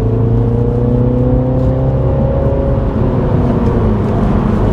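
Car engine accelerating in third gear on a road, a loud, steady, close hum whose pitch rises gradually and then levels off, with no talking.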